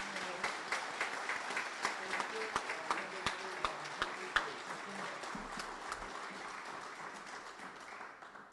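Sustained, faint round of applause from a distant audience at a military award dinner, with a few distinct sharper claps standing out in the steady patter.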